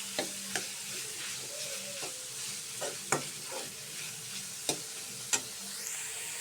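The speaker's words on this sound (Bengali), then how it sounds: "ডিমটা মিক্স করার পরে আরও কিছুক্ষণ রান্না করে নেব পেঁয়াজের কলি।" Spring onion greens, egg and prawns cook quietly in a pan, a soft sizzle broken by sharp clinks and scrapes of stirring at irregular intervals, with no voices.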